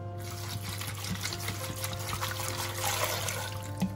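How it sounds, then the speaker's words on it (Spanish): Water is poured over white beans with leek, garlic, onion, pepper and bay leaf in a pressure cooker, a steady trickling splash that runs continuously at moderate level. "Ahí las cubrimos de agua y las ponemos en el fuego."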